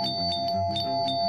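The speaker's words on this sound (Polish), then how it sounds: "Tak! Dzwonek do drzwi!" A bright electronic doorbell chimes in a quick repeating ding-dong pattern, loud and close, with nothing else around it.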